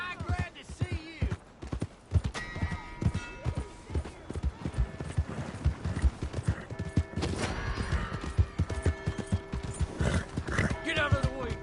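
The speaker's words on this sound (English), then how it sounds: "Hey! My horse!" Horse hooves clop in quick uneven beats in the video game Red Dead Redemption 2, broken by shrill whinnies and neighs, with a voice speaking over the galloping and scattered crashes behind.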